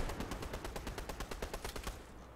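Rapid automatic gunfire from a video game firefight, a steady burst of evenly spaced shots lasting about two seconds, close and loud, then cutting off.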